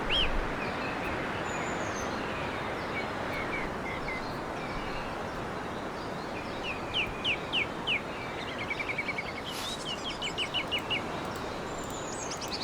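Wild turkeys calling in the hunting game The Season, faint yelps and clucks in short repeated runs over steady outdoor background noise.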